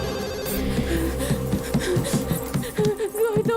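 A telephone rings insistently with a repeating electronic ringtone melody, fairly loud and continuous throughout.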